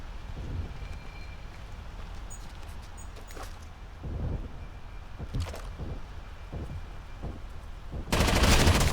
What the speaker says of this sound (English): That firing right there was definitely my son.